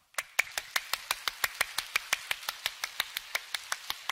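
A church congregation claps hands in unison, about twenty sharp, evenly spaced claps at a steady brisk rhythm, close and fairly loud, with no talking over them.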